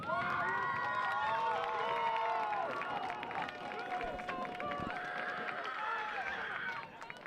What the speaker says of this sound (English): let's give a round of applause for our boys for this second half